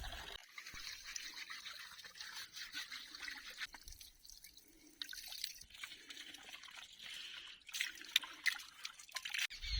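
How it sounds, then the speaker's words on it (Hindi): Dishes being washed with water at a natural mountain spring, with steady trickling and dripping and intermittent clatter and splashes close by, no voices. "तो वहाँ पे अभी बर्तन धोने हैं।"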